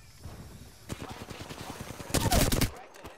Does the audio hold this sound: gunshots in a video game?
yes